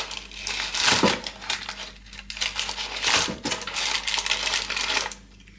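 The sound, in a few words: flipping chicken pieces in air fryer drawer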